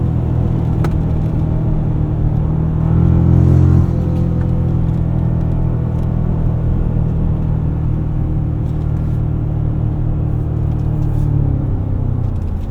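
A 2024 Toyota Tacoma Trailhunter engine on 33-inch tires pulls steadily through its 8-speed automatic, a loud continuous low rumble with held harmonic tones and a brief swell near the start, no voices.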